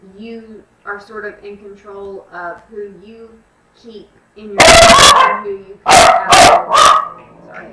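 A pet dog barks loudly and close by in several sharp bursts, starting partway through a woman's calm speech and then continuing in short barks after she stops talking.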